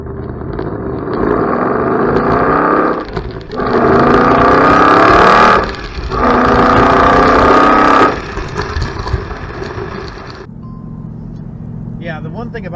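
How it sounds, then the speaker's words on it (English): A 2018 Roush Stage 2 Mustang V8 launches from a standing stop to 60 mph, engine roaring loud and rising through three strong pulls with brief dips at each gear change, then easing back to a low rumble. "the performance from 0 to 60 from a standing stop. So decided I'd show you guys what that sounds like."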